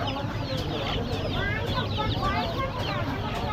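Native country chickens cluck and squawk in a crowded poultry market, many birds overlapping in a constant close chatter, with people talking nearby.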